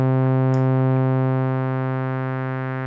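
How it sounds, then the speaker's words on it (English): A steady buzzy synth tone whose filter resonance is raised, sweeping and softening the timbre, while the overall volume gradually drops. "as you change the emphasis or resonance, it dramatically adjusts the transition band and the entire sound gets quieter"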